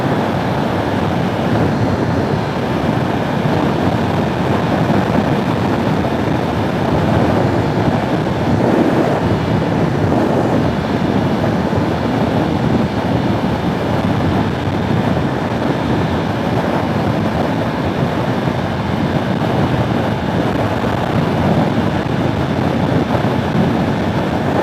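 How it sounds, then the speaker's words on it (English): Wind rushing past a rider on a 2019 Yamaha R3 motorcycle near a lake, a constant loud, dense roar with a low engine rumble underneath and no talking. "It's windy, but it's not crazy windy."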